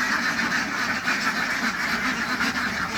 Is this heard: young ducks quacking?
yes